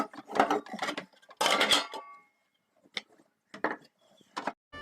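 Dishes are scrubbed and washed in a kitchen, with bursts of clattering and scraping separated by short pauses, fairly close and without talk.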